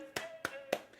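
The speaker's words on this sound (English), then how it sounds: "Golf clap" Three soft, evenly spaced claps form a quick polite golf clap, close and isolated, each a short crisp pat over a faint steady tone.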